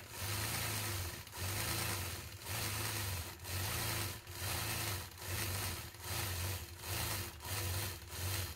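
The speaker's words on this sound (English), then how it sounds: "I'll finish my design by stitching in the ditch all the way around the outside of the block" Domestic sewing machine quilting a Tryst quilt block, stitching in the ditch around its outside edge, running in steady bursts of about a second each, separated by short pauses, close and fairly loud with no talk.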